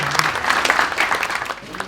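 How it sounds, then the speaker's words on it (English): An audience at a property developer networking evening in London claps steadily for a couple of seconds, a dense patter of hands filling the room. "I think we should have a round of applause for newbies."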